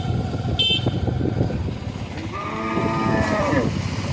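A cow on a roadside lets out a drawn-out, fairly close moo that rises and falls, heard over steady road noise and passing traffic.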